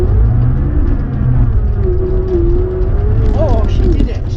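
A Rover P4 car engine idling after a cold start, a steady low rumble and whir close by with a faint rising tone near the end.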